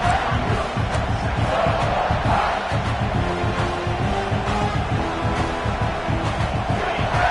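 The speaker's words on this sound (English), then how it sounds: "This crowd knows they have to bring it in big moments" A stadium crowd at an American football game roars steadily in a big red-zone moment, a dense, loud wall of cheering and shouting that holds without a break.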